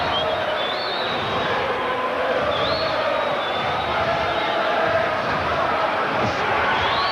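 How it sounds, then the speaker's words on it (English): A boxing arena crowd at the Baby Jake Matlala vs Domingo Lucas WBO 112lb title fight breaks into song, a dense, continuous roar of many voices chanting together. "The crowd breaking into song"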